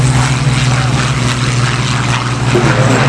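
Propeller aircraft engine at the Duxford Flying Legends air show, a loud, steady, smooth droning hum with no break across the whole stretch.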